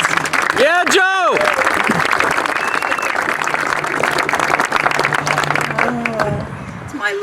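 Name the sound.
audience applause for a speaker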